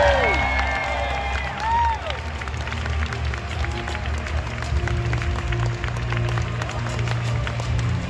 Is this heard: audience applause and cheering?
yes